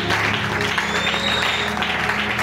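A church congregation breaks into sustained applause as an acclamation after a long scripture reading, a dense, even wash of clapping filling the room for the whole stretch.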